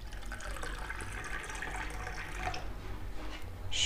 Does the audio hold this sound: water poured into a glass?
yes